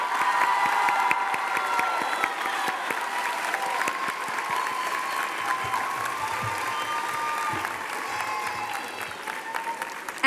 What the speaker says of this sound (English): Another round of applause for our graduates for class of 2019.